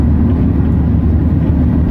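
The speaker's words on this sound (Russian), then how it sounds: "Едем весело на машине" Police car driving along a road, a steady low engine and road rumble filling the background without pause, fairly loud and close from inside the cabin.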